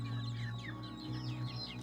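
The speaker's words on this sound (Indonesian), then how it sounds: "ekor ayam yang dipeliharanya di dalam rumah" Dozens of chickens kept inside a house cluck and chatter in repeated short calls over a steady low hum, the birds fairly close and no one speaking.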